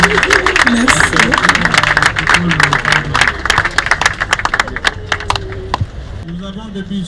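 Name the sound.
audience applauding at a memorial service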